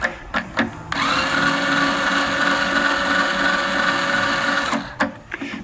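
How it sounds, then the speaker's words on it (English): A motorized string winder spins to loosen the strings of a classical guitar, a steady close whirring drone lasting about four seconds between a few short clicks and handling sounds. "Now, the string winder can go two different ways. It can tighten or loosen. I have it set to go loosen."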